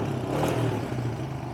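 A 1997 Kawasaki Mojave KSF250 ATV engine revs at close range, a loud, steady mid-pitched drone that swells slightly and holds, with a rough mechanical rattle underneath.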